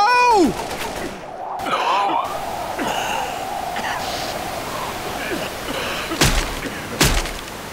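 Machine gun fire in the Left 4 Dead video game crackles in scattered bursts and sharp shots over a hissing, busy backdrop, with a few louder cracks near the end.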